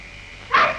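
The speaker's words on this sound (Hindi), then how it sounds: "कुत्ते कब से भौंक रहे हैं?" A single sharp dog bark from an old black-and-white Bollywood film arrives after a quiet stretch, fairly close and alone.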